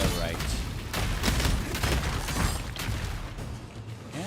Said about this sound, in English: Yeah, that thing exploded all right